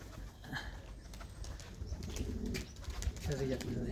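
Domestic pigeons cooing softly at a rooftop loft, low murmuring calls with a brief flutter of wings, mixed with background voices talking nearby.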